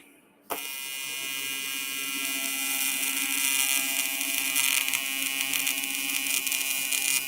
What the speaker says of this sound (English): I'm going to be having some fun welding this